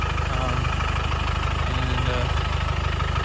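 A diesel engine idles steadily at close range, a low, evenly pulsing rumble with slight vibration that holds unchanged throughout.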